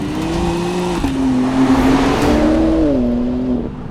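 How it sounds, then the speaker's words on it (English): A performance car engine paired with an 8-speed automatic pulls hard under acceleration, a deep droning growl that rises in pitch, drops at a gear change around the first second, then climbs again, loud and close. "I like the sound of this kind of dark, brooding, sort of foreboding as it hauls and it pulls, and it really does pull, this engine."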